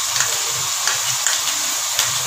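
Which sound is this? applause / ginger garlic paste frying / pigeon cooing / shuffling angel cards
ginger garlic paste frying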